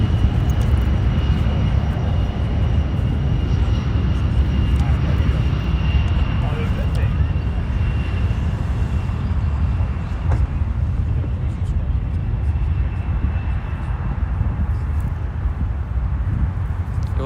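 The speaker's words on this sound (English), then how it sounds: "This will be our official last aircraft." An airplane at Los Angeles International Airport gives a loud, steady, far-reaching engine roar with a faint high whine that holds for the whole span. A voice talks beneath it.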